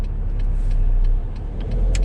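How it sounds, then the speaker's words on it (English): Several cars passing along a road, heard from inside a waiting Mercedes-Benz Vito van before it turns right, a steady low traffic rumble that swells and fades slightly with no talking. "There's a few cars that are coming, so we're going to wait for these to go past"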